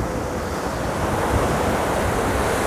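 Sea waves break steadily on the shore at Anapa, a continuous close roar of surf with wind noise on the microphone and no voices.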